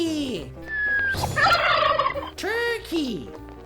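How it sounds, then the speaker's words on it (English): Cartoon turkey gobbling in a children's animal video, a rapid warbling gobble in the middle framed by short squawking calls, loud and close with no talking. "Turkey."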